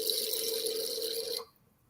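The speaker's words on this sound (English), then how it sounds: "I'm gonna let you pour your wine." Wine is poured into a glass close by in a steady, bright trickle that runs for well over a second and then cuts off abruptly.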